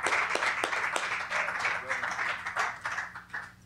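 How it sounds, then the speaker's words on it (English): Audience applause at a 1997 poetry recital in a San Francisco public library, welcoming a poet to the stage. The clapping is moderate and steady, with sharp individual claps near the start and a murmur of voices beneath. "Let's give Patrick Johnson a great round of applause"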